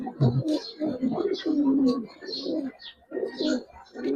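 Giribaz pigeons in a loft coo in repeated soft, throaty phrases, close by, with a few faint chirps between the coos.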